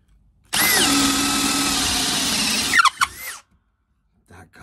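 A Bosch drill on a faster speed setting spins an auger bit through wood in one loud, steady whirring burst of about two seconds, ending with a few squealing bumps as the bit breaks through and stops.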